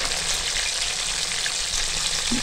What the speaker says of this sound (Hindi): अब हम मज़ीद इसको हम 7 से 8 मिनट इसको फ्राई करेंगे